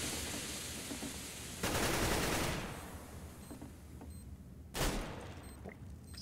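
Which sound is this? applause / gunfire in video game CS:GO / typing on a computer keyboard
gunfire in video game CS:GO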